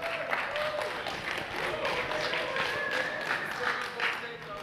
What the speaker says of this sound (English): That's what they're clapping for.